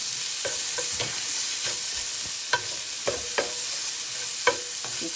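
Browning onions sizzle steadily in a frying pan while a utensil stirs them, with soft scraping strokes recurring every second or so over the constant hiss.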